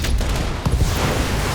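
Mech unloading a salvo of SRMs in BattleTech, a loud, dense barrage of overlapping blasts and rumbling impacts filling the whole moment without pause.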